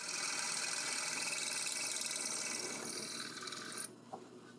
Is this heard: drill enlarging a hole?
yes